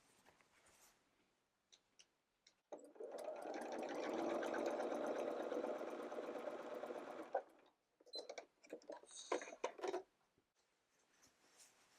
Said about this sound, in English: I'm going to take it to the sewing machine, and I'm going to sew right on